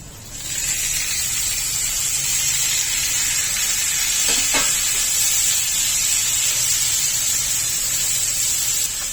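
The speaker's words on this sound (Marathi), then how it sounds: "कांदा 5 मिनिटं परतल्यानंतर त्यामध्ये मगजबी, काजू आणि टोमॅटो घालून घ्यायचे" Onion, melon seeds, cashews and tomatoes sauté in oil with a steady, hissing sizzle that holds evenly throughout, with one brief clink near the middle.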